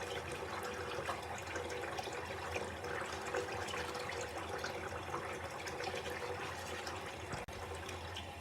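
Steady running water from a tap as someone washes their face at a sink, a continuous broad hiss with an even level throughout and one brief knock near the end.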